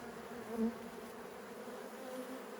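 A steady, droning hum of many honeybees buzzing nearby at a beehive, continuous and moderately faint, with one bee briefly passing closer.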